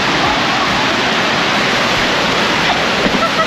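Water in a resort wave pool rushes and churns as a steady, loud, close wash of broadband splashing noise that holds without pause throughout.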